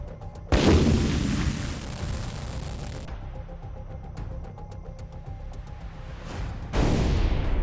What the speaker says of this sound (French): Malgré des bombardements systématiques et soutenus